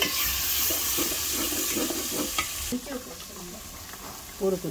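Shrimp, ginger-garlic paste and cumin powder being sautéed in a pan, giving a continuous loud sizzle with scraping stirs and clinks of a utensil against the pan.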